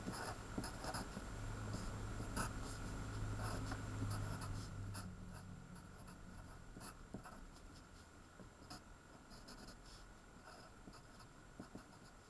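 A pen or pencil writes and draws on paper while sketching a chemistry structure and its mirror image, producing close, faint scratchy strokes and light taps with short pauses.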